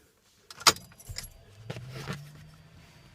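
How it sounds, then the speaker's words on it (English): Keys jangle briefly in the ignition of a 1978 Corvette with a 350 engine fitted with Fitech EFI, followed by a few soft clicks and a low electrical hum as the switch is turned on, close and fairly quiet. "So let me turn the switch on for that right quick."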